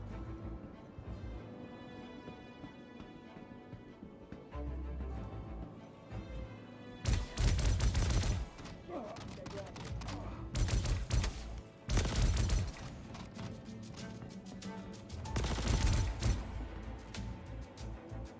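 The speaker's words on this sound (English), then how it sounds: "We're going to have a little strafing run past." Video game gunfire during a strafing run in the space game Star Citizen: several loud bursts of rapid fire and crashing impacts break out over a constant droning engine hum, with short pauses between bursts.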